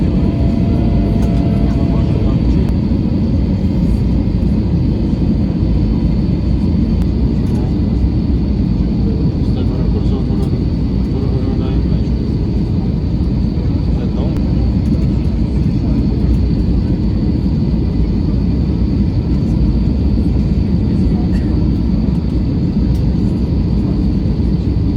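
A steady loud roar fills a Wizz Air airliner cabin descending into Split, Croatia, a constant low engine and air rumble with faint clicks and rustles throughout.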